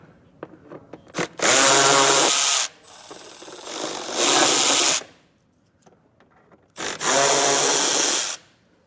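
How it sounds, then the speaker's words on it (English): A power drill backs Torx screws out of a 2023 Ford Edge during a trailer hitch installation, in three loud whirring bursts of one to two seconds each, separated by short clicks and pauses. "I'm going to start with the Torx screws."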